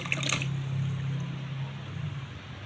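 Water heats in a cooking pot for a fish and tomato dish, giving a faint, steady bubbling and trickling hiss with a brief splashier burst at the start.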